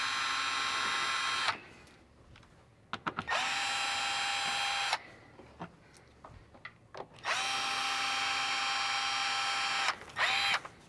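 Power drill removing screws from a vehicle dash panel during a turn signal kit install: three long whirring bursts with steady pitch, separated by pauses filled with clicks and handling clatter, close and alone.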